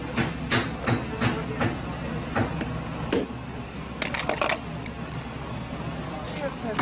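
Hammering on a spinner bracelet being made by hand, a series of sharp metallic taps spaced irregularly, some in quick clusters, close by with people talking in between.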